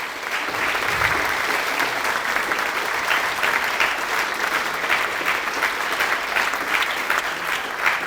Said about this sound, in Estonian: teeme ühe suure aplausi vahepeal ka Eesti Saarte Kogule